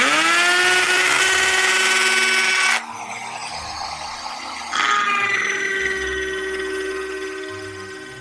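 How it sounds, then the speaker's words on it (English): A power drill working into cedar for simple shutters, loud and steady with a high whine, then cutting out briefly before starting again in hammer mode with the same strong buzzing drive. "So the drill is not working, so I'm going to switch it to hammer. It gets really loud."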